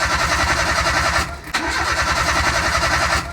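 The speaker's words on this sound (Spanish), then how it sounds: "vamos a intentar dar marcha para liberar la presión del sistema" A Nissan Platina or Renault Clio is cranked with the fuel pump fuse removed, so the starter churns in a fast, steady rhythm without the engine catching, close and loud in two long bursts separated by a short pause.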